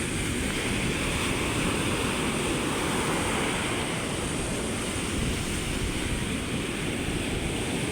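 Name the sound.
sea waves at the shore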